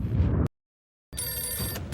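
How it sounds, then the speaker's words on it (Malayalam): A phone ringing in the video game Madout 2, two bursts of electronic ring tone separated by a short silent gap, loud and close with no talk. "ഫോൺ വന്നു."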